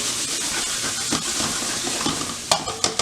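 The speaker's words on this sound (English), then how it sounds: "Throw little stir, the garlic's browning." Garlic sizzles hard in sesame oil in a hot pan for a vegetable stir fry, a steady close frying hiss broken by a few sharp clatters and scrapes of stirring near the end.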